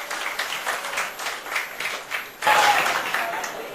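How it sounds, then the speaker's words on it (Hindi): A studio audience at a televised political debate applauding the guests, a dense, continuous burst of clapping that swells louder partway through, with voices mixed in. "एक बार जोरदार तालियां कन्हैया और शुभ्रस्था के लिए बजा दीजिए"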